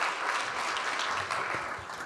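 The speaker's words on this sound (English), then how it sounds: "Applause, applause here, thank you." Audience applause at a political talk event on Ontario democracy, a steady, moderately distant wash of many hands clapping throughout.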